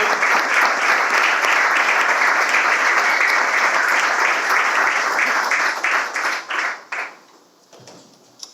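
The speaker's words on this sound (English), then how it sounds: "why don't everyone give another round of applause for Etel and for coming up on the stage." A live show audience applauds loudly and densely for several seconds, then the clapping thins out and fades to a few scattered claps before near silence.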